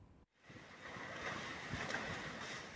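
A whirlwind with heavy rain sweeps through Ngablak hamlet in Magelang, heard as a dense, continuous roar of wind and rain buffeting the microphone that swells after a brief dropout.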